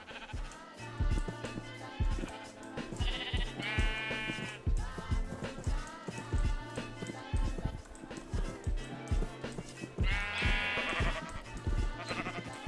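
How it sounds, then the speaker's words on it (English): Minecraft sheep bleat repeatedly over busy music and game sounds, with a few longer, louder bleats standing out clearly. "Sheep."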